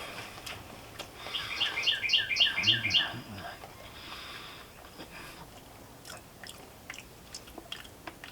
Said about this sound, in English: That little birdie's still tweeting away.